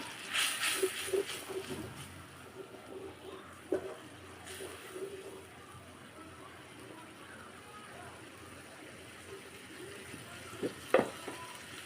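Dried fish (shutki) bhuna frying and being stirred in a pan with chili, a soft continuous sizzle with scattered scrapes and clinks of the spatula, fairly quiet and close.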